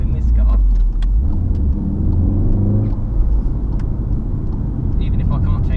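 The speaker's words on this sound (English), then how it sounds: "I get a thrill just putting my foot down in this car." A manual Mk7 Volkswagen Golf R accelerates on a wet road. Its engine gives a loud, deep, continuous rumble from inside the cabin, rising in pitch as the revs build.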